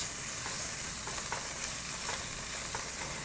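Spinach and ham frying in a pan, a dense continuous sizzle with a few light stirring scrapes, close and steady, with no one talking.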